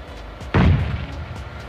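One heavy shotgun blast in PUBG, a loud close boom with a short decaying tail against an otherwise quiet background.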